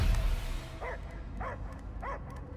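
A dog barks in Marvel's Guardians of the Galaxy video game, three evenly spaced single barks at moderate distance over a low ambient hum, with no talk.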